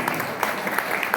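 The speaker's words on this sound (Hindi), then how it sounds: "दादी जी की ताली बजाओ एक बार" An audience at a religious discourse claps for a grandmother. The applause is brief and moderately loud, made of quick scattered hand claps.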